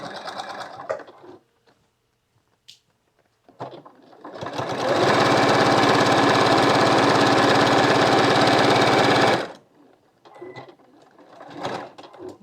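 A sewing machine runs in one loud, steady burst of about five seconds while back tacking a seam on an African Queen quilt block, with brief handling noises before and after.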